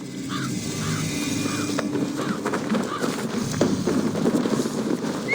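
Horses gallop in Assassin's Creed Valhalla, a steady pounding hoofbeat rhythm running throughout over a dense wash of game ambience and music.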